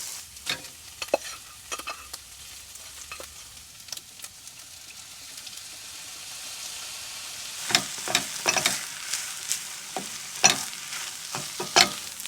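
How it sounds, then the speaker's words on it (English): Rice and soy sauce frying and being stirred in a pan over a camp stove by a lakeshore, with a steady soft sizzle and frequent scraping, clattering stirs that grow busier toward the end. "Then we can add our rice and soy sauce and we're pretty much done."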